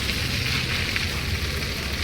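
Noodles frying in oil on a flat griddle during a rainy day, a dense, even sizzle that holds steady at close range without any voices.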